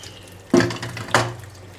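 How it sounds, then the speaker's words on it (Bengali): Dishes being scrubbed and rinsed under a running tap at home, two short bursts of gushing water with clinks between, close and fairly loud. "মাজা ধোয়া হচ্ছে"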